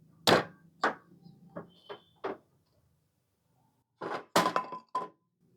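Clamps being loosened and pulled off a vise fixed to a thin wooden bar table, giving a few sharp knocks and thuds in two separate clusters with a quiet gap between them, close by and with no talking.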